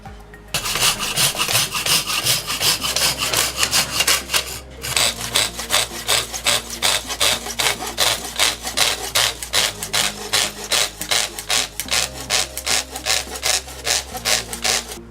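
A hand saw cuts through a wooden batten clamped down with two clamps, giving a steady, close rhythmic rasp of back-and-forth strokes with one brief pause partway through.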